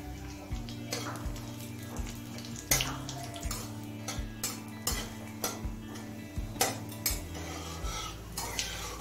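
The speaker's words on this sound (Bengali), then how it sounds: "জিরে আর শুকনো লঙ্কাটাকে লাল করে ভেজে নিয়েছি" Cumin seeds and dried red chilies fry in hot mustard oil in a wok for vegetarian Gobindobhog rice khichuri, with quiet crackling, a spatula clinking and scraping against the metal, and a few sharper knocks.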